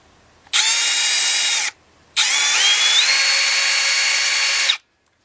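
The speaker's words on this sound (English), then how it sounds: "now I'm going to take and drill a hole right here for the wire in the back of the head" A power drill whirs in two bursts, a short one then a longer run with the motor pitch shifting, close and loud with silence between, drilling a wire hole in a taxidermy form.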